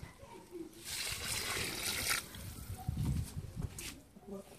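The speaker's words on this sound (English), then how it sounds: "So now I'm adding in water." Water pours into a pot for waterleaf jollof rice, a soft trickle and splash lasting several seconds. It is heard close and fairly quiet.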